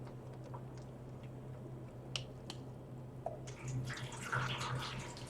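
Hot dye water poured into a jar, a splashing trickle that rises in the last couple of seconds after scattered clicks and taps, with a low steady hum underneath.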